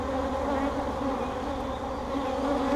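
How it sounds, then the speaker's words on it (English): Dense, steady buzzing of many honey bees pouring out of an opened hive during an inspection, close and continuous with no pauses. "there's a decent amount of bees coming out of everything"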